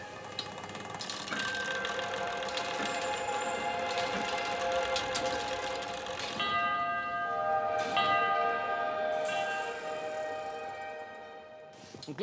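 Bells of a medieval cathedral astronomical clock mechanism ring out, several overlapping tolls with long sustained resonances, heard from inside the clock amid a dense reverberant wash and low mechanical rumble.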